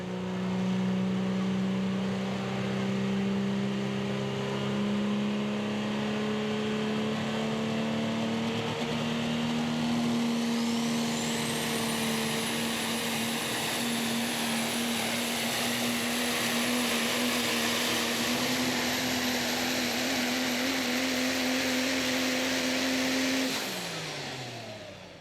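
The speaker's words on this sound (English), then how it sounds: "Up next will be a truck called On Borrowed Time." The super stock diesel pulling truck On Borrowed Time, driven by Sean Hodges, roars down the track at a truck pull, a loud sustained engine drone with rising turbo whine that holds for over twenty seconds before cutting off.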